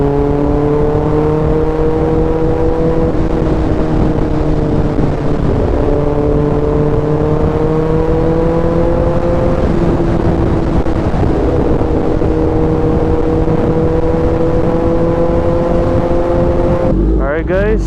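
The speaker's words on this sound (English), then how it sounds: "I don't know if you guys can hear me in the wind blast and the bike's exhaust." A Kawasaki Ninja ZX10R superbike's exhaust drones steadily and loudly while riding, its pitch rising and dipping slightly amid heavy wind blast, with a voice talking over it.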